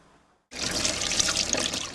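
A faucet suddenly turns on after a quiet moment, and hands are washed in the steady, hissing stream of running water pouring into a sink nearby.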